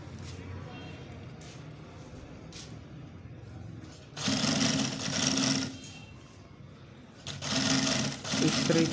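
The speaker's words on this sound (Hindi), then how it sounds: "तरीके से हम इसको सिलाई करते जाएंगे।" Tailor's sewing machine stitching along a fabric edge, two loud close runs of rapid whirring separated by a quieter pause, with soft handling noises before the first run.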